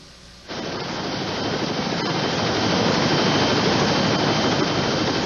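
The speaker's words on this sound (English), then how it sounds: "we made a decision to have the Coast Guard chopper land and fly the boy out" A Coast Guard helicopter comes in to land for a rescue, its turbine roar starting abruptly and swelling into a loud, dense, steady rushing noise that holds to the end.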